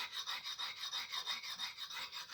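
An axe is sharpened on an old, broken whetstone with a steady rhythmic rasp. The strokes repeat about four times a second, close up and fairly quiet, with no talking.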